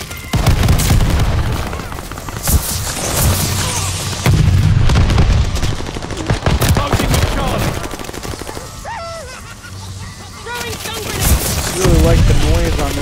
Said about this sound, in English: That's a grenade.